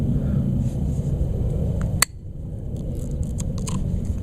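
A single sharp snip as scissors cut through the starter rope on an Echo PB-400 leaf blower, one crisp click standing alone over a steady background hum.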